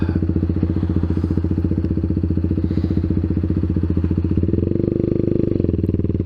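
A Kawasaki Z125 motorcycle pulls away slowly, its small engine thumping in a rapid, even rhythm up close, then swelling louder as it picks up speed, with no voices.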